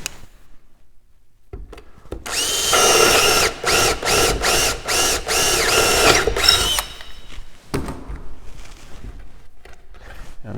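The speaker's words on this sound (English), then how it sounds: "take this big 1/2 inch drill bit, drill a hole through the upper web frame" A power drill with a 1/2-inch bit whirs loudly through the upper web frame of a wooden end table, pulsing as the trigger is pressed and released several times, then stops, leaving faint workshop noise.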